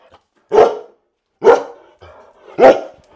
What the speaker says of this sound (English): It's a dog barking.